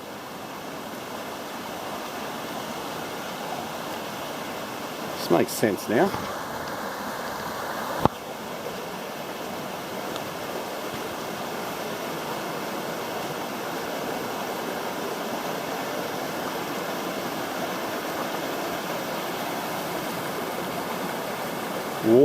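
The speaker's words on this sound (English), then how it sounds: "this is where we cross the creek" A creek flows steadily along a walking track near Empress Falls in Wentworth Falls, a soft, even rush of water at moderate distance, with a few brief knocks and a short spoken remark.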